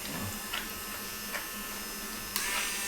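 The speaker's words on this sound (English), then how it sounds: "A cordless Dremel would be better, but use what you got." Corded Dremel rotary tool running for dog nail grinding, a faint steady electric whine and buzz with a few brief louder touches, no talking.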